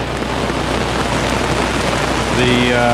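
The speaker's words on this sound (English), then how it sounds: "The occasional thunderstorms seems to be correct. Seems to be getting heavier." Heavy, steady rain pours throughout during a thunderstorm in North Georgia, a dense hiss of close drops on surfaces that swells slightly near the end, where faint tonal sounds rise underneath.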